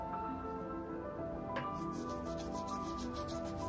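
Steady close scrubbing and rubbing as a blackened conch shell is scoured clean with Colgate toothpaste, a continuous gritty friction with no speech over it.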